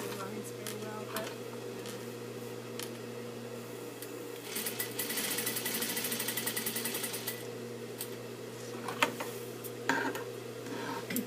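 A sewing machine stitches denim, its quiet, steady mechanical whir running throughout with a few busier ticking bursts midway and toward the end.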